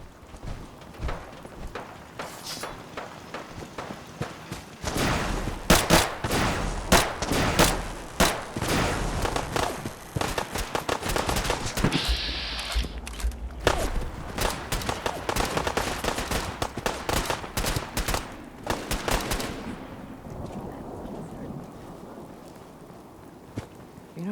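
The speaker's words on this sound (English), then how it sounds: "Opening fire." Gunfire in the video game Fallout 4: a dense run of sharp, loud shots and bursts, some rapid like automatic fire, spread over about twenty seconds before easing into quieter background sound.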